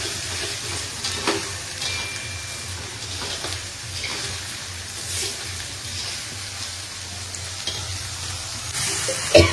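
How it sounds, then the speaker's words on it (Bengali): Onions frying in a pan with sugar added, a steady soft sizzle and crackle running throughout, close and moderately loud, with a brief louder clatter near the end. "পেঁয়াজটা ভাজতে ভাজতে একদম গলে যাবে, নরম হয়ে যাবে পেঁয়াজে।"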